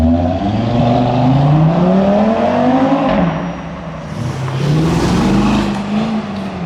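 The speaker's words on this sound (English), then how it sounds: "There goes the Corvette." A Corvette drives past during a car meet, its engine note rising and falling loudly as it approaches and passes close by, with no talking over it.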